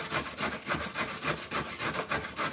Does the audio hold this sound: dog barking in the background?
no